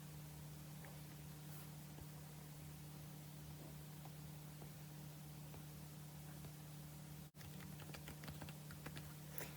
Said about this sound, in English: here you have to type the email address